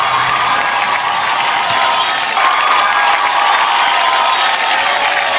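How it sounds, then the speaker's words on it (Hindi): Loud, sustained audience applause and cheering for Jacqueline Fernandez at the Star Guild Awards show, a steady dense clapping wash filling the hall throughout. "जैकलिन के लिए जोरदार ताली हो जाए एक बार."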